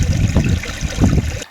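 Moving stream water on a backcountry hike near Mount Jutland, a loud close gurgling and rushing flow with uneven surges, heard alone without talk.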